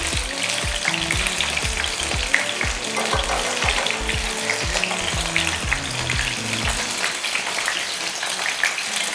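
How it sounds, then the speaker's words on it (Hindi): Spicy battered chicken wings coated in vinegar masala fry in oil over a high flame, a loud steady sizzle with crackling spatter throughout and repeated low knocks from pieces being dropped in. "तभी हम इसको तेज़ चूल्हे पर फ्राई करते हैं"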